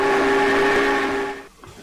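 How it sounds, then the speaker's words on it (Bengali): Locomotive in a train simulator game starting to move, a loud steady tonal hum with a whistle-like drone that cuts off suddenly after about a second and a half, leaving faint rumble. "পাওয়ারটা দেওয়ার সঙ্গে সঙ্গে আমাদের ট্রেনটা চলা স্টার্ট করছে"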